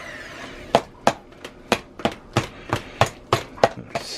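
Skin-on potatoes are mashed in a cast iron pan, giving about a dozen sharp, close knocks and thuds at a fairly regular rhythm over roughly four seconds, with no talking.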